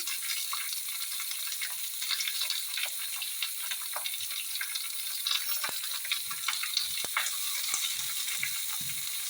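Onions sizzle steadily in hot oil in a pan for a chickpea curry, a constant close frying hiss with occasional light clicks and stirring taps, and no voices.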